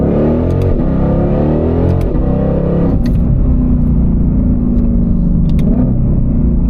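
A Ford Shelby GT500 with its exhaust in track mode revs hard and continuously, a loud, close engine roar that rises and falls through several throttle blips with no voices.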